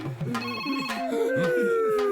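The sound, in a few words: phone ringing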